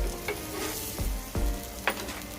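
Bombay duck (bombil) fish frying on its second side in a pan, a dense crackling sizzle with a few sharp pops and spatters, close and loud.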